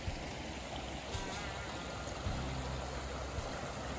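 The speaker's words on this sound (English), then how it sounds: "this is what the creek looks like on a normal day" Steady rushing and gurgling of creek water, a continuous broadband wash with no voices, fairly close and even in level throughout.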